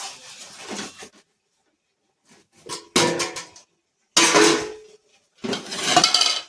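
Cut potatoes tumble into a pot of mutton curry in a home kitchen, giving a few loud clattering, scraping bursts of metal on metal separated by short silences.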